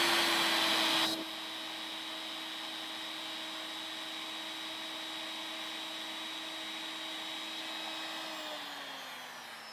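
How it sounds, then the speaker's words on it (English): A DeWalt router fitted with a 1/4 inch shank bit and set to a low speed runs steadily. It gives a loud, even motor whine that settles after a brief startup burst and begins winding down at the end. "So let's just grab a DeWalt router and see how much it draws."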